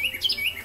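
Birds chirping and tweeting in a short burst of bright, repeated calls, fairly clear and steady, as background ambience in an animated story setting.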